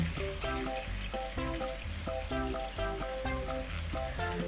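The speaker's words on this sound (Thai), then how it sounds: "พอน้ำมันร้อนดีเนี่ยเราก็ใส่ตัวปลาเค็มลงไปทอดได้เลยนะคะ" Salted fish frying in hot oil in a pan, a steady close crackle and sizzle that runs throughout, with no voices.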